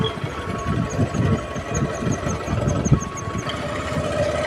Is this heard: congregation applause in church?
no